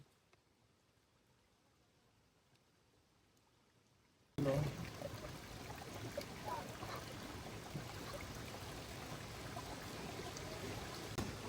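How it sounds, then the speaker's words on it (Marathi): Rice being washed in water beside a river: after a near-silent start, a steady rushing, splashing water sound begins abruptly and continues close and fairly loud, with faint voices in the background. "तांदूळ धुवून घेऊ आपण आता. 3 पाण्याने धुऊ, 3 पाण्याने."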